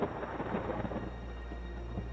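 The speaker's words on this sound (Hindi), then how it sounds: "बिजली कड़क रही थी और दूर से बादलों की गड़गड़ाहट सुनाई दे रही थी" Low, continuous rumbling of distant thunder in a storm, a steady dull roll with faint rain-like hiss on top, no voices.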